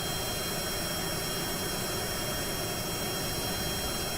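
Aircraft engine roaring during a short takeoff in Kerbal Space Program, a steady, dense broadband rush with no breaks or changes, fairly quiet and alone without voices.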